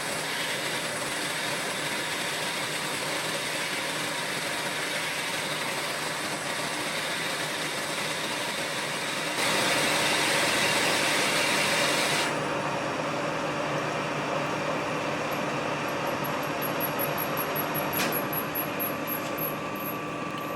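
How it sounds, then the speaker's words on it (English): A lathe drives a Sutton hole saw into a cast bronze slug, making a steady mechanical hum with a harsher, louder stretch of cutting partway through. "I'm just using the tailstock feed handle here just to drive that hole saw in."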